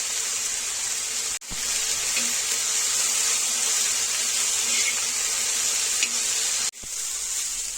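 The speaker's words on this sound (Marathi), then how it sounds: "आता कांदा जो आहे चांगला लाल भाजून घेणार आहोत" Onions fry in a pan for egg tawa masala, giving a loud, continuous close-up sizzle that breaks off briefly twice before resuming.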